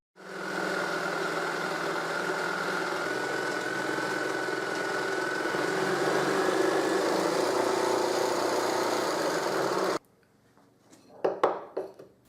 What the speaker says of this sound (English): I can cut them with my jigsaw table.